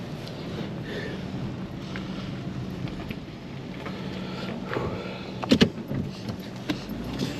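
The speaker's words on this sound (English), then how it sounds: "Let me roll the window down" A 2013 Dodge Avenger power window rolls down inside the car, a faint motor whir under steady road and wind noise, followed by a couple of short knocks.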